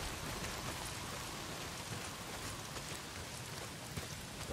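Steady, dense rain pours down in the open world of the game Days Gone, a continuous hiss of drops hitting surfaces with no letup and a faint low rumble underneath, with no voices.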